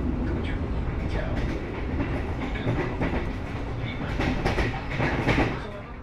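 The Fajar Utama Yogyakarta executive train departs Pasar Senen station, heard from on board as a steady rumble with rhythmic wheel clatter and occasional sharper clanks, moderately loud throughout.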